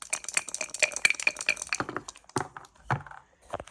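Red and white dice clatter and rattle in quick bursts against a hard backgammon board, a cluster of sharp clicks followed by a few scattered taps.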